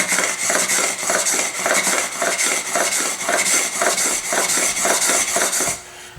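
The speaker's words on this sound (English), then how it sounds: "I'm putting pressure on the outsides with 2 fingers and pushing the block with my thumb." A hand plane blade is pushed repeatedly across a honing block, making steady rasping strokes in an even rhythm, about a dozen passes, loud and close, with no talking.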